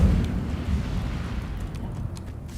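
A fire spell cast in Hogwarts Legacy bursts as a low, roaring whoosh that rumbles steadily at close range, fading slightly over a couple of seconds with no voices over it.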